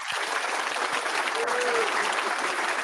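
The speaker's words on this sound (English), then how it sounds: "they really do know how to applaud" A studio audience applauds, steady and full throughout, a dense wash of clapping at moderate loudness with no voices on top.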